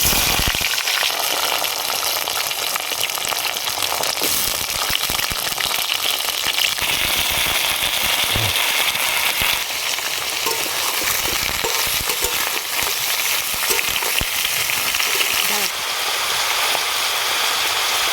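Vegetables fry with black cumin in hot oil in a wok, giving a loud, steady crackling sizzle that runs continuously and close up, with occasional stirring scrapes and no talking.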